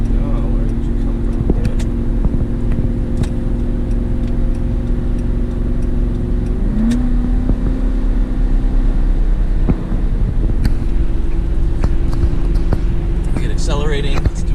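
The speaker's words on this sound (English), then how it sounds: "accelerating, it's doing well, gets up to speed well" A 2006 Ford F-150 XLT with a 5.8L engine and 4x4 drones steadily as it accelerates, a continuous engine hum heard from inside the cab with a pitch shift midway and occasional clicks and knocks.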